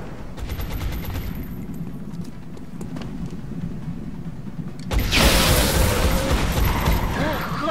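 Gunfire in the XCOM video game: a run of rapid clicking, clattering shots, then a sudden loud burst of sharp, noisy blasts about five seconds in that carries on to the end.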